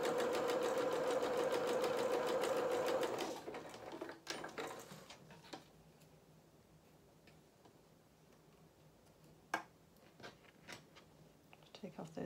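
A sewing machine stitching a culottes seam for a Luna Lapin doll outfit runs in a fast, steady whir for a few seconds, then stops, leaving scattered clicks and handling taps.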